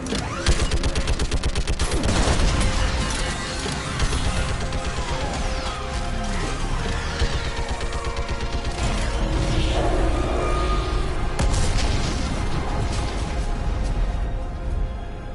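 Sustained gunfire and weapon fire in Mass Effect 3 during a battle against a live Reaper on Rannoch, with dense rapid bursts, crashes and whooshes running loud and continuous throughout.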